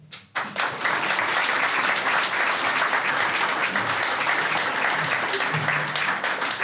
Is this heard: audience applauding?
yes